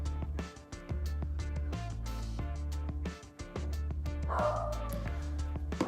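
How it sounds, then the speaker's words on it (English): A dog barks in short bursts somewhere nearby during an aquarium setup, its yips and woofs sitting over steady music with tonal layers throughout. "My dog's barking right now."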